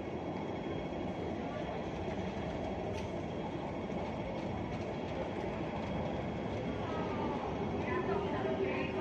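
A train rumbles past a roadside spot in Indonesia, a continuous loud rolling roar with faint wheel clatter and a thin squeal near the end, steady throughout with wind-like noise and no clear speech.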